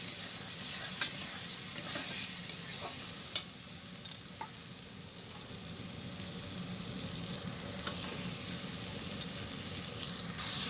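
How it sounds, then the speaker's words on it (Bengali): Meat goes into a pan of sizzling fried spice paste, a steady hiss of frying with scraping stir strokes and occasional clinks, close and continuous, with no voices. "তো আমার মশলা কষানো হয়ে গিয়েছে আমি এখন মাংসটা এখানে দিয়ে দেবো"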